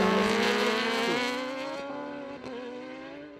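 Superbikes racing at Interlagos, with a Honda leading, their high engine whines sweeping past in a rising and falling pitch that fades into the distance, fairly loud at first and then softer.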